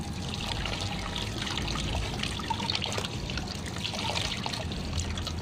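Hands rinsed under a running tap, a steady trickle and splash of water pouring and dribbling close by, continuous and fairly soft with no voices.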